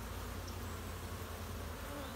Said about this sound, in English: this big mass of bees comes flying in at the same time as soon as you move out of the way